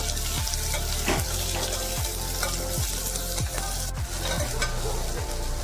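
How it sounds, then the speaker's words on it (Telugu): Thick-cut onion pieces frying in a pan and stirred with a spoon, a continuous loud sizzle broken by regular scraping strokes about once a second, no voices. "ఈ ఉల్లిపాయలు ఎక్కువసేపు వేగాల్సిన అవసరం లేదండి ఈ విధంగా వేగితే చాలు"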